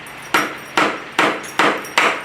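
Five sharp hammer blows on engine parts while a turbo Olds small-block is torn down, evenly spaced roughly every half second, loud and close, each ringing out briefly.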